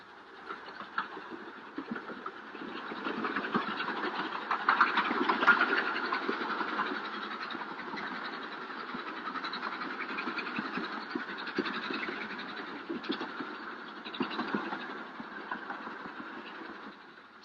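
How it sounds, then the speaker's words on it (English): A Darjeeling hill train climbs through the mountains, its engine droning steadily with faint clicking from the wheels and railcars, a continuous mid-distance rumble that swells and eases. "For 51 miles, the train winds its way up through the mountains"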